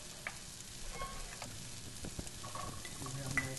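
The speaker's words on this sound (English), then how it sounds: "After the onions, we cook the baby corn." Baby corn stir-fried in a pan with onions, a steady sizzle of frying with scraping stirs and clatter throughout, close and moderately loud with no talking.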